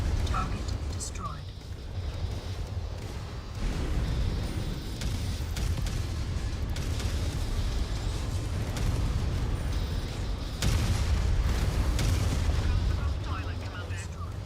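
Artillery fire in the MechWarrior video game, loud repeated booming blasts and heavy rumbling that continue for the whole stretch, with short sharp bursts cutting in at intervals.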